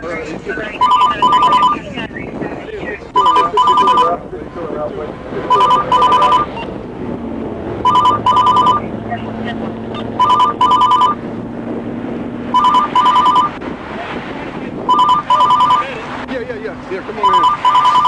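A telephone rings in repeated electronic bursts at a roadside police stop, each double trill recurring every couple of seconds while people talk over it.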